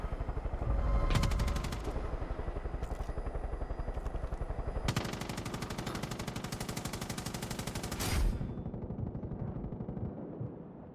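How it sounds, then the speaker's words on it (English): Sustained automatic gunfire from enemies in Far Cry 5 rattles in rapid, dense bursts for nearly the whole stretch, loud and close, with a heavier surge partway through and brief louder bangs. "They're shooting me!"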